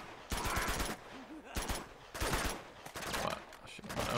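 AK-47 automatic fire in the video game Uncharted 2 rattles out in several rapid bursts separated by short pauses, fairly close and steady in loudness.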